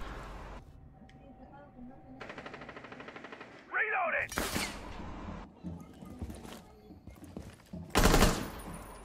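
Gunfire in Rainbow Six Siege comes as several loud, sharp bursts of shots between stretches of quieter game noise, with a voice talking over the action.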